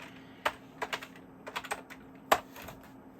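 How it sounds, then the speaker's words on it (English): An IP address typed on a computer keyboard for a Power Mac 4400 setup: a few sparse, crisp key clicks in short clusters, close and clear, with one sharper tap near the end and no talking. "So, we're going to type in my highly private IP address."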